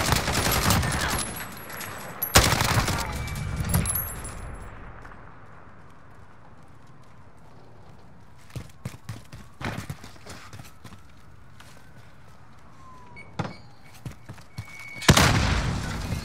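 A drone fires in a video game in a few loud, sharp bursts at the start and at the very end, with scattered fainter shots and thuds in the quieter stretch between.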